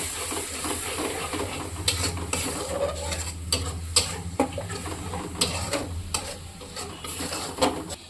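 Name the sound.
poppy seed paste being stirred and sautéed in a pan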